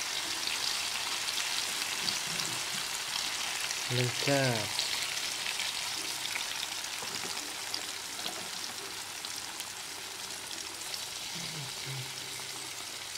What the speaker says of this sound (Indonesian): Goreng tahu yang sudah dipotong tadi ya